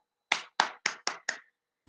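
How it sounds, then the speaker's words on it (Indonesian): A few hands in a classroom give a student five sharp, evenly spaced claps, close and crisp, each followed by silence. "Oke, beri tepuk tangan dulu untuk dia."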